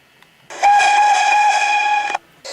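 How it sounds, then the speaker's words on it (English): A train whistle sounds one loud, sustained tooting blast lasting about a second and a half after a quiet start, and a second blast begins just as the clip ends. "both the car and truck heard a toot-toot of a whistle sounding faintly and making a warning"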